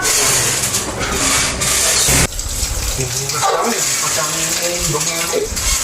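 Potatoes washed under a running kitchen tap, a steady broadband gush of water pouring continuously with brief clatter and handling sounds, loud and close, with people talking over it.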